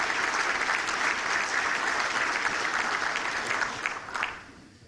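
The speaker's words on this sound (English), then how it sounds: "Come on, stand up, give a round of applause." Audience at a chamber of commerce breakfast clapping in a steady, full round of applause that holds strong, then tapers off near the end.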